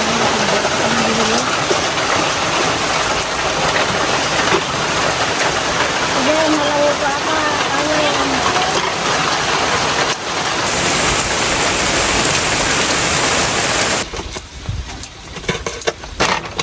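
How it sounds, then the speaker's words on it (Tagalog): Steady rain pours down on a rural farm setting, a dense continuous hiss close by that cuts off abruptly near the end, with a few brief voice-like tones in the middle. "Ayan guys, umulan na."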